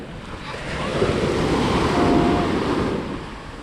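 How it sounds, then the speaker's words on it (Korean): Ocean waves wash onto a beach in Phuket, a broad continuous roar swelling and fading with wind noise on the microphone, fairly loud and close, no voices. "파도 소리. 파도 소리 대박."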